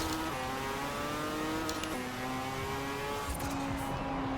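Mazda RX-7 Spirit R rotary engine in the Forza Horizon 4 racing game, a steady high-pitched drone that climbs through the revs with brief dips at gear shifts, loud and continuous with no talking.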